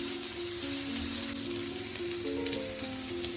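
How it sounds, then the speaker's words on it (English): Curry leaves sizzling in hot oil in a pan for a prawn curry, a continuous crackling fry with bright hiss, steady and fairly close, with no voices. "Then you can add in curry leaves. And just continue stirring it."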